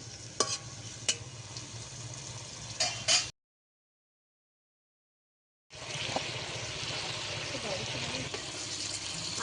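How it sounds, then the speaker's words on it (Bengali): Water poured into a pan of bhola fish and potato curry, a steady watery rush and sizzle with stirring clatter, cut by a stretch of silence before the bubbling hiss resumes loud and close. "পরিমাণ মতন জল দেবো।"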